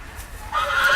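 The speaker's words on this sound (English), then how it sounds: "Sounds like a horse has got some problems." A horse whinnies in a Game of Thrones video game, a strained tonal neigh rising in the second half of the moment, loud and close with no talk over it.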